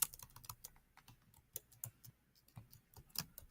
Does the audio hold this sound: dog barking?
no